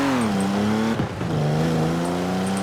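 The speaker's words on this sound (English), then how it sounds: "That had a wonderful exhaust sound last time I heard it" A sports car engine in the video game Forza Horizon 4 drones with a throaty exhaust note, dipping briefly as it shifts then climbing again, loud and steady throughout.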